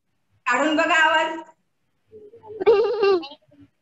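Children's voices imitate a goat's bleat, two separate wavering bleats, the first long and steady, the second shorter and rising, close and fairly loud with silence between.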